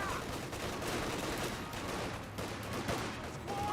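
Dense, continuous gunfire and scattered shots crackle at moderate distance in Company of Heroes 2, a real-time strategy battle in which an infantry lieutenant keeps firing. The firing stays steady throughout with no clear pauses.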